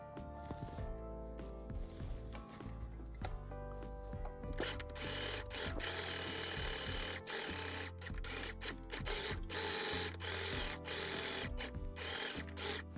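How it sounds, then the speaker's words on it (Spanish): Sewing machine stitching the long sides of a fabric rectangle for a simple handbag, a faint mechanical whir with rapid needle clatter that starts, pauses and runs steadily in bursts. "Cosemos los lados largos del rectángulo para que no se muevan las telas."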